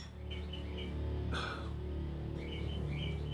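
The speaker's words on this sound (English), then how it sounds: "Y'all hear the birds, don't you?" Indoor birds, heard from a dining room, give faint, scattered chirps and short tweets over a steady low background hum.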